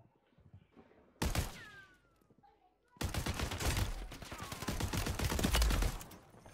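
Shotgun fire in Call of Duty on Rebirth Island bursts in suddenly after a quiet start, loud close blasts and gunfire clatter continuing in a dense stretch with speech in the mix.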